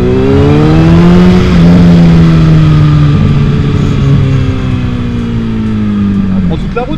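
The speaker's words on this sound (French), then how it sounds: "Oh, les retours de flamme que j'ai dans le pot." Suzuki B-King 1340 motorcycle on an open road, its engine roaring loudly as it accelerates with a falling then steady pitch, exhaust pops and crackles near the end, and a rider talking over it.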